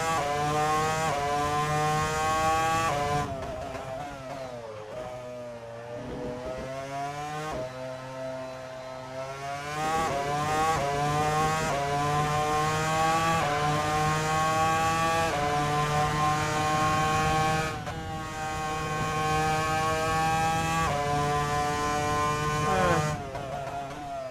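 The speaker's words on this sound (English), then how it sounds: "How the car just echoes through the countryside." A McLaren MP4-20 race car engine in Assetto Corsa screams loudly and continuously, its high-revving pitch rising and falling through gear changes, with brief dips as it lifts off before climbing again.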